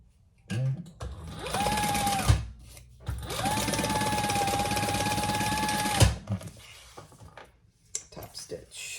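Sewing machine top stitching a messenger bag: two steady bursts of rapid stitching, the second longer, with quiet pauses and small clicks of fabric handling between them, up close.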